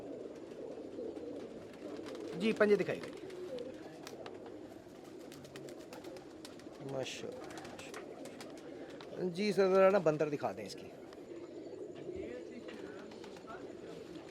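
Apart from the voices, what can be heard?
pigeons cooing, Hira Lal pigeon with red eyelids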